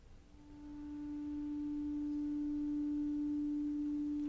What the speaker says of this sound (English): you hear the sound, which is very much like a sine wave